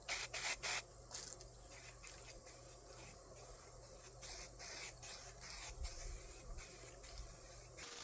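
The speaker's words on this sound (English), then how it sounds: "Never tried to spray in a primer" Short hissing bursts of a spray can of primer on a 1974 Volkswagen Beetle, several quick puffs at the start then more intermittent sprays, close and fairly quiet over a faint background hum.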